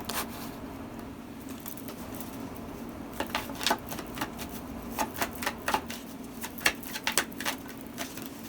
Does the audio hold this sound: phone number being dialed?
no